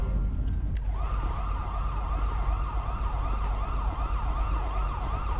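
In the game GTA V with the LSPDFR police mod, an ambulance siren starts after a brief moment and wails in repeated rising-and-falling cycles over a low background engine rumble.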